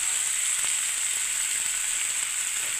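Cauliflower and potato pieces with chilli powder and salt fry in a hot pan, giving a steady, loud, even sizzle throughout with no voices.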